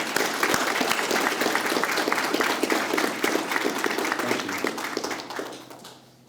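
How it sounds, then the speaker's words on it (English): A crowd at a Clarksville Chamber of Commerce gathering applauds the daughter of a Medal of Honor recipient. The dense, steady clapping runs for several seconds, then thins and fades out at the end. "So, ma'am, a round of applause."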